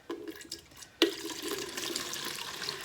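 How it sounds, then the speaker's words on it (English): Liquid being poured into a container while making marshmallow tincture, a soft trickle at first, then a sudden splash and a steady gushing pour that continues close by without talk. "All right, so I'm just gonna pour that in here"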